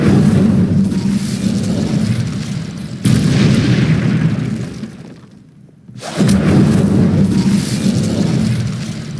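A video game Incendio fire spell is cast with loud, roaring bursts of flame and rumbling blasts. Two long, sustained eruptions sit close and heavy, separated by a brief fade to near quiet.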